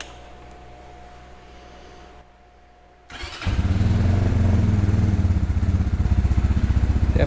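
An RPS Cruiser 300 EFI motorcycle, a fuel-injected, liquid-cooled six-speed, starts up after a brief quiet pause and settles into a loud, close, steady pulsing engine run.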